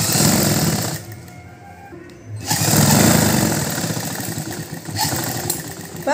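A sewing machine stitches blouse lining in loud bursts of rapid mechanical whirring, pausing briefly before running again up close.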